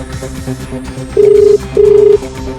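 A telephone call is placed in a Hindi crime drama: two long, steady ringback tones sound clearly one after the other over faint background noise.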